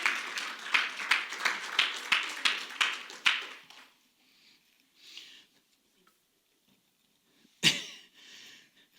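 Congregation at a church service clapping in a steady rhythmic beat for several seconds, moderately close, then stopping, followed by near silence with a faint voice and one sharp isolated noise.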